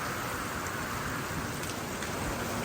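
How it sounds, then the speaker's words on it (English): Rain driven by wind during Hurricane Idalia, recorded from a barn, forms a constant, dense hiss of rain on surfaces. It stays steady and moderately loud the whole time, with no voices. "So if we come to this side, we'll start to see some blowing rain"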